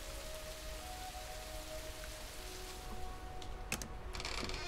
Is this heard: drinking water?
no